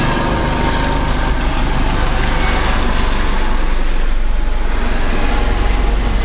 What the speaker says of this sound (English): we just had a couple of very bright, orange, loud helicopters pass by